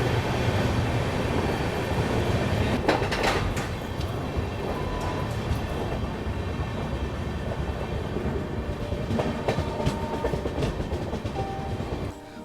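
The Kashi Tamil Sangam Express runs at moderate speed through Ongole station, heard from onboard as a steady broadband rumble with rhythmic wheel clatter and occasional sharper rattles.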